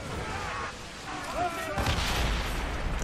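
Muffled ship cannon booms and blasts during a naval battle in Assassin's Creed Rogue on Xbox 360, with crackling impacts rising toward the end over a busy background.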